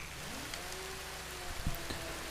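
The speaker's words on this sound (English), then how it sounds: "Oh, it's raining as well." Rain falling during a wet race at the Mugello GP course in the RIDE 4 motorcycle racing game, a steady hiss of raindrops with a soft rumble and faint engine tones underneath, a brief louder splash near the end.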